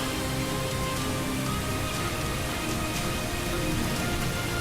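Heavy rain pours down during monsoon flooding in the urban streets of Bhilwara, Rajasthan, a dense, constant roar of drops on the waterlogged ground that stays loud and even throughout, with no voices.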